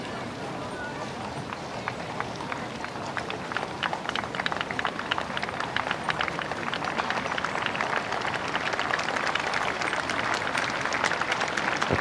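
Large outdoor crowd lining the streets at Princess Diana's funeral applauds in a continuous, dense wash of clapping, with hooves clip-clopping in the procession and a commentator talking over it.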